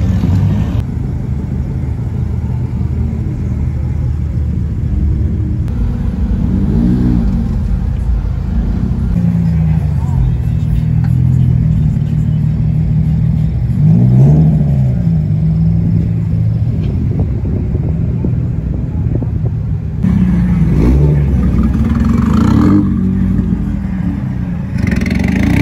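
Cars pull into a large morning cars-and-coffee meet, engines rumbling and revving in several loud swells, with passing vehicles and talk heard over the steady motor noise.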